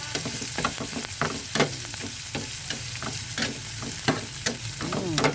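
Onions and garlic sautéing in a pan for shrimp paste (bagoong alamang), with a steady sizzle and repeated scraping stirs throughout, close and fairly quiet.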